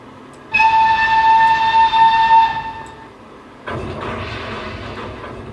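Flying Scotsman steam locomotive in the Trainz game sounds a loud, steady multi-tone whistle for about two seconds that then fades. After a pause, a broad rumbling hiss of the engine setting off follows, with no talking.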